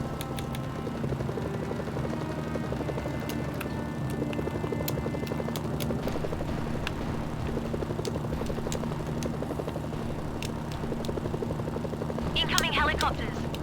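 Helicopters in the video game Mercenaries: Playground of Destruction, a steady rotor and engine drone running throughout amid battle noise and sharp effects, with a voice speaking over it.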